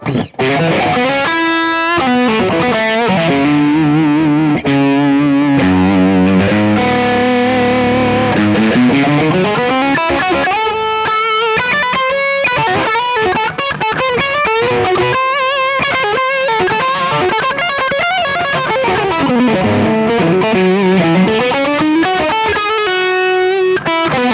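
Distorted electric guitar with EMG SA/SA/85 pickups plays a continuous run of riffs and chords, loud and close, with a gritty, saturated tone throughout and no talking.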